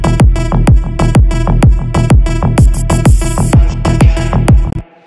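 A remix plays back loud without its mastering plugins, driving kick-and-bass pulses on a steady four-on-the-floor beat with dense synths and a rising sweep before cutting off abruptly.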